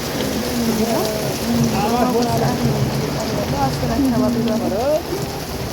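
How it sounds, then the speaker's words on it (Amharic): Heavy rain pouring onto a city street during the rainy season, a loud dense hiss of falling water with passing auto-rickshaw engines and horn-like tones layered over it. "ዝናቡ በጣም እየጣለ"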